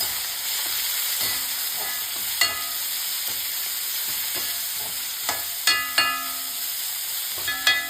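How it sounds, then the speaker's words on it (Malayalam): Finely chopped ginger, with chopped onion, sautés in a pan, giving a steady close sizzle broken by several sharp scrapes and clinks as a spoon stirs it, with no voices present. "ചെറുതായിട്ട് അരിഞ്ഞു വെച്ചേക്കുന്ന ഇഞ്ചി ചെറുതായിട്ടൊന്ന് സോട്ട് ചെയ്യണം"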